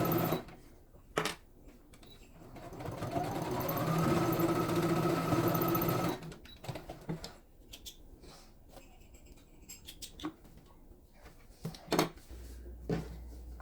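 A sewing machine stitches a zipper seam on a fabric document pouch in a short whirring burst that ramps up in speed, followed by quiet handling clicks and taps of fabric.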